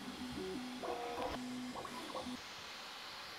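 Bambu Lab A1 3D printer running, its stepper motors giving a few short tonal whirs and beeping movement sounds, fairly faint and close, with no talk.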